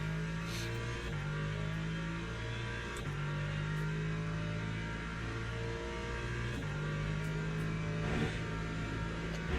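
Race car engine in Le Mans Ultimate, a steady loud drone with smooth revs stepping up and down through gear changes, heard close from the cockpit without any voices.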